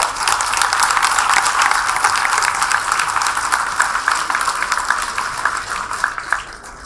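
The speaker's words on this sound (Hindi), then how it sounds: "आप दिल खोल के दाद दीजिए, आप तालियां बजाइए" A crowd at a Dastangoi storytelling performance of the Mahabharata breaks into loud, sustained applause, dense clapping that fills the room and eases slightly toward the end.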